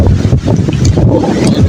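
Strong seaside wind roars and buffets continuously, loud and close, with heavy gusting rumble and no talking.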